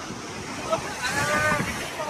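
Ocean surf rolling in at RK Beach in Visakhapatnam, a steady broadband wash with wind buffeting the microphone and faint voices mixed in.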